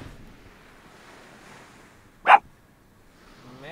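A dog near a camper by the sea gives a single sharp, moderately distant bark over soft wind and surf, followed by faint higher yelps at the end.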